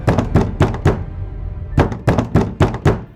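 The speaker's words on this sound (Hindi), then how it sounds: "हर रात 1:13 AM पर उसके बेडरूम के दरवाजे पर धीमी सी दस्तक होती है।" A soft knocking on a bedroom door, arriving as two clusters of four dull knocks separated by a brief pause, close and distinct with nothing else around them.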